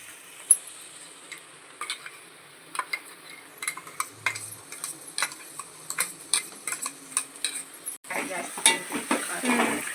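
Onions and ground green chillies frying in a pan for a North Karnataka tempering, quiet sizzle under repeated sharp clicks and scrapes of a metal spoon stirring, growing into a louder hiss near the end.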